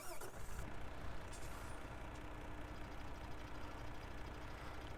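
A Fahr transporter truck in Farming Simulator 17 starts up, a brief crank and catch giving way to a steady, loud engine rumble that continues alone without talk.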